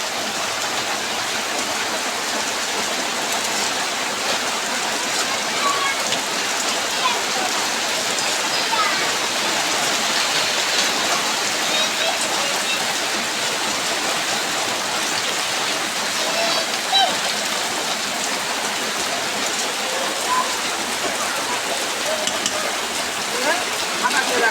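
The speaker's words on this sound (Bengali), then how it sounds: "দেখেন কত বৃষ্টি, দেখেন সারাটা দিন আসছে বৃষ্টি।" Heavy rain pours steadily outdoors in a rural village setting, a dense, continuous hiss and patter that stays loud and unbroken throughout, with no pauses.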